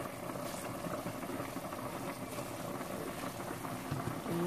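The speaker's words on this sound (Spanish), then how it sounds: "Como pueden ver, está a hervir y hervir." A pot of water at a rolling boil as yuca and pork cook, with continuous dense bubbling and hissing, close and steady throughout and no voices.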